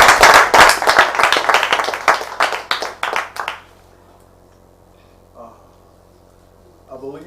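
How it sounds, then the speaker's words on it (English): Audience hand clapping at a live event, loud and dense for about three and a half seconds before thinning out and stopping, followed by quiet room tone with a couple of faint voices. "Is this the way you're going to clap for yourselves?"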